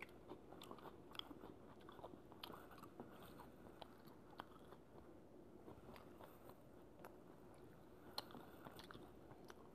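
Close crunching and chewing of crispy lemon and bourbon chicken, a steady run of small bites and crackles with no talking.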